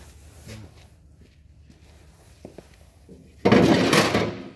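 A 2002 Winnebago Itasca Sunstar 21B motorhome door swings shut and latches with a sharp, loud click near the end, after a few faint knocks and handling taps.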